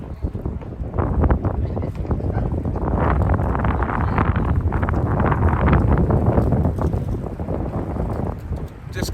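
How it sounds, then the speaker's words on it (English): Steady wind blowing across an outdoor microphone in early spring, a continuous broadband rush with gusty buffeting that stays loud and fairly even throughout, with no clear talk over it. "Just concerned with this wind"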